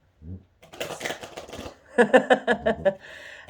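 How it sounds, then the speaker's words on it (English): Oracle cards are shuffled and pulled in a morning reading, giving bursts of papery riffling and flapping at close range, followed by a run of sharp rhythmic card snaps, with some low voice sounds early on. "he's actually shuffling and pulling cards this morning"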